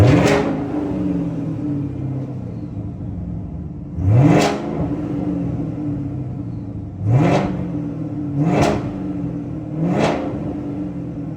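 A Camaro Z01 with an aftermarket intake and muffler delete idles with a deep rumble, then revs sharply four times in quick blips, each rising and falling back to idle, loud and close.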